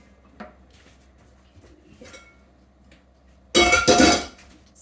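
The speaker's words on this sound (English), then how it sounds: "gonna stir that all in" Home-canned chicken, vegetables and cooked potatoes are stirred in a pot, a couple of faint taps followed by a short, loud burst of metal clattering and scraping near the end.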